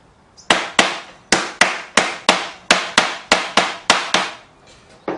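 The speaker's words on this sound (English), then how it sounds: "we just pound the leg into place" A wooden leg of a bonsai display stand is pounded into a glued, doweled joint with about a dozen sharp, loud hammer blows at a steady rhythm, each ringing briefly before the next.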